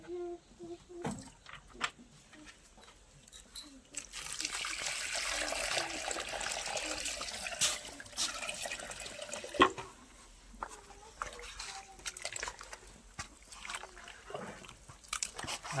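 Water is poured into soil gathered from under a neem tree while making jivamrut on a farm, a trickling, splashing pour lasting several seconds amid scattered handling clatter and small knocks.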